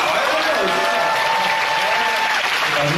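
Audience at a Seoul radio fan-meeting applauding steadily and densely throughout, a continuous wash of many hands clapping with crowd murmur underneath.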